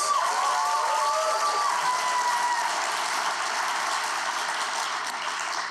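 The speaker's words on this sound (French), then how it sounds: "une bonne main d'applaudissements pour le festival" Crowd applause for an emerging comedy festival, a dense, sustained roar of clapping heard alone, with faint tonal squeaks early on, fading slightly toward the end.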